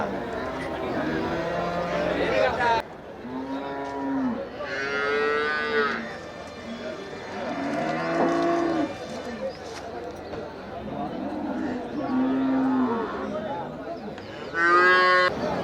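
Cattle at a busy livestock market moo repeatedly, long drawn-out calls rising and falling close by, with people chattering throughout the background.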